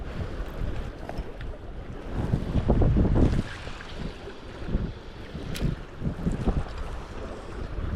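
Gusty wind buffets the microphone while someone wades waist-deep in a salmon river, a loud rushing roar that swells and eases in uneven surges over faint water movement, with no talk.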